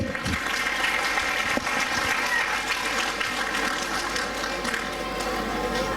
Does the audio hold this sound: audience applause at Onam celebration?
yes